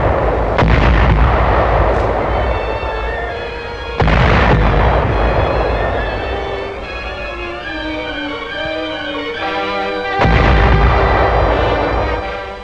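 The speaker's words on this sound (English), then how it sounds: "The maneuvers are covered by the guns of a still powerful navy." Heavy naval guns firing in a 1943 wartime newsreel, three or so loud booming blasts spaced several seconds apart over a continuous orchestral music score.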